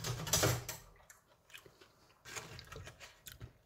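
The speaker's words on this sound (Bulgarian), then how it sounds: "Малко мляскам, за да му усетя аромата и вкуса" Someone chews freshly baked kvass bread spread with butter and savory: a loud crunchy bite, then softer smacking chews in uneven bursts, close to the listener with no talking.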